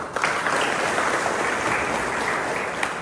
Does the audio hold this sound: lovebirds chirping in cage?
no